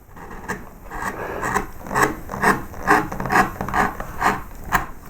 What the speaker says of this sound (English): So I'll take my gouge and just run across here like this. So I'm just scooping this out a little bit.